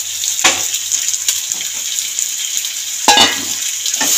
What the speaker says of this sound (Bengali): সবজি ভেজে রেখেছিলাম, সিম আলু মূলো, এটাও দিয়ে দিলাম।